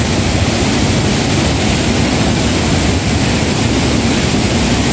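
Sungkilaw Falls roars as a loud, dense, unbroken rush of falling water, close by and filling the scene with no voices.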